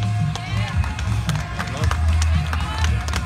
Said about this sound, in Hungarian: Egy nagy tapsot ad kérni ennek a szegedi fiatalembernek.